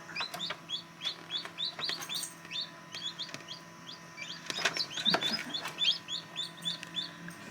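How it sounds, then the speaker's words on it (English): Newly hatching chicks peeping inside an incubator, a steady stream of high repeated chirps close by over a low machine hum, with a few brief bumps. "Probably hears those others chirping and they're right next to it."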